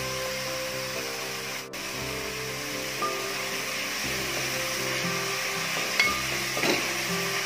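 Onions sauté in a pan for beef vindaloo, a steady soft sizzle running throughout, broken by occasional scraping stirs and a couple of louder clinks toward the end.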